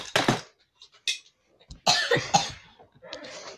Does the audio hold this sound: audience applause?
no